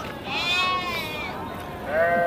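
Sheep at the Gudur livestock market, pregnant ewes and mothers with lambs, bleating loudly and close by in two wavering calls over a busy crowd murmur.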